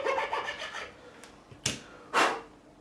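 A fret saw or file recuts the fret slots in the neck of a 1989 Fender Stratocaster Plus clamped in a vise: raspy back-and-forth strokes close by, then two louder, sharper scraping bursts near the end.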